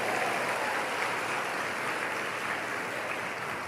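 A church congregation applauds with a dense, steady wash of clapping that stays even and moderately loud throughout, with no distinct individual claps standing out.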